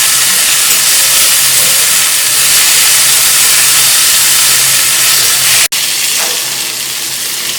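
Fenugreek leaves sauté in a little oil on a gas stove for crisp dry bhakri, giving a loud, steady sizzling hiss that runs unbroken before a sharp brief cut near the end.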